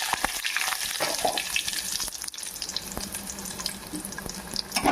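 Mustard seeds and curry leaves crackle and sizzle in hot oil, with a steady frying hiss and scattered sharp pops close by, no voices over it.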